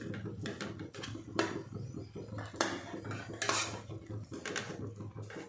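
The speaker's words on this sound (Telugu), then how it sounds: "సాల్ట్ వేసుకుని దాన్ని ఈ విధంగా కలుపుకుంటూ ఉండాలి" Leftover rice is mixed by hand with pickle and salt on a plate, with a string of light clinks and scrapes at an uneven pace, close and fairly quiet.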